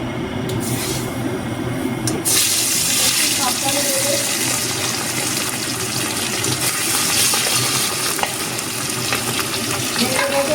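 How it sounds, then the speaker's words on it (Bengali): Marinated fish pieces fry in a wok of mustard oil with a loud, continuous sizzle and crackle that runs unbroken from close by. "এবারে মাছগুলো আমি এক এক করে ভেজে নেব।"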